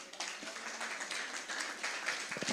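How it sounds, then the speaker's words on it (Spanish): A church congregation at a pastors' and leaders' conference gives a soft, steady round of applause that sounds faint and distant throughout. "Un aplauso, iglesia, a ellas."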